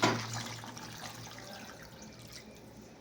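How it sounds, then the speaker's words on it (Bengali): Water poured into a pan of fish curry, a brief close splash and gush at the start that settles into a softer bubbling, liquid wash. "জল ঢেলে দিলাম।"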